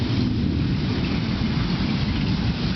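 Heavy thunder rumbles through a lightning storm, with dense rain noise filling the background, loud, close and continuous for the whole stretch.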